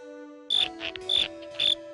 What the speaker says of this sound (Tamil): இந்த மாதிரி ஒரு வினோதமான வெட்டுக்கிளிய நான் பார்த்ததே இல்ல.